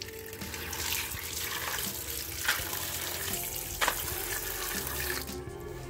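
Tap water runs steadily into a sink while crabs are washed, a close continuous gush with occasional splashes and clatters as the water hits the crabs, and no talking.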